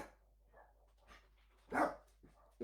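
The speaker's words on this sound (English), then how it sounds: "always dogs barking" Dogs bark indoors in a quiet room: a couple of faint yips, then one loud, close bark and a sharp second bark at the end, separated by near silence.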